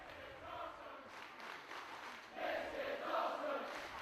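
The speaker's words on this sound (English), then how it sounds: "Crowd once again showing their appreciation for what they're seeing here." Wrestling arena crowd during a tag team title match, a broad roar of cheering and applause that swells louder in the second half, with no voices standing out.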